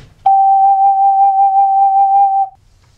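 A 12-hole ocarina sounds a single steady G, a pure whistle-like tone held loud and clean for about two seconds, then stopping.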